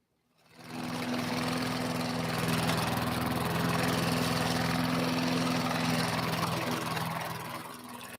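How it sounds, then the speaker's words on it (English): A sit-down riding lawn mower runs steadily for several seconds with a droning engine hum. It starts up quickly, holds at a constant level and is moderately distant, with no talk over it. "And that's the sound of a lawnmower,"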